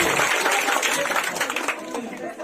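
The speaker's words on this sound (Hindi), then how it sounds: "इनके लिए जोरदार तालियों से स्वागत कीजिए।" Applause from a quiz-competition audience greeting a correct answer, a dense wash of clapping that holds steady for a couple of seconds with faint voices mixed in.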